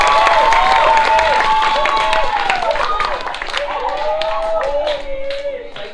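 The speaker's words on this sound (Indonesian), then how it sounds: "Beri aplaus yang meriah" An audience claps at a school language ambassador contest, a dense burst of applause heard under a loud voice over the PA that fades slightly toward the end.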